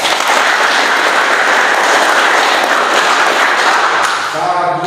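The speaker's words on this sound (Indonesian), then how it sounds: "Berikan dulu aplaus." A room full of people applauding at a teacher training session, a dense, steady wash of many clapping hands that stays loud throughout before easing slightly near the end.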